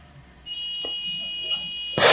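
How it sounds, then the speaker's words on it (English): Warning blinker buzzer on a school bus: a steady, shrill electronic tone switches on and holds for about a second and a half, close and loud, before a burst of harsh noise cuts in at the end. "I hate that noise, the blinkers, but they ain't on the newer buses"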